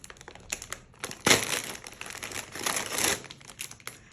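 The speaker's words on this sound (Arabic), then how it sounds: "وافتح الكيس ده بحظ يوسف" A plastic bag containing a karate-themed kids' prize is torn and opened up close, giving loud crinkling and crumpling bursts with a sharp rip partway through, alone without talk.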